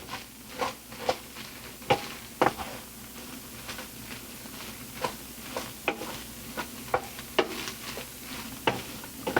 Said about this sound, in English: Then once it's mixed, we add our nuts.